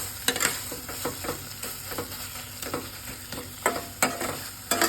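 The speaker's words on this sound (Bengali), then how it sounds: "এবার একটু নাড়াচাড়া করে নিচ্ছি, মিক্স করে নিই, একটু মশলাটা কষিয়ে নেব" A spice masala with onions is stirred and fried in a pan, with steady sizzling broken by repeated scraping strokes of a spoon at an uneven rhythm, close and fairly quiet, with no talking.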